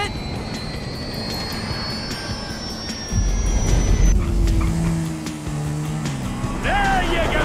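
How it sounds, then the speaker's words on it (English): A jet plane descends in GTA V, its engine whining with a falling pitch before a louder roaring rush; voices talk over it. "Plane's coming down."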